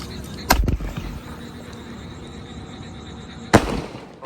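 Two sharp firecracker bangs go off outdoors, the first near the start and the second about three seconds later. Each is loud and abrupt with a brief crackling tail, and the ambient noise between them is low.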